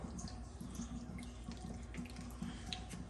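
Water pouring from a cooking pot into a kitchen sink while making nokedli egg noodles, a steady close rushing and splashing flow throughout with no speech.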